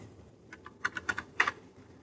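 Typing on a computer keyboard: a short burst of about six or seven crisp, close keystrokes in an uneven rhythm, a few quieter taps first, in an otherwise quiet room.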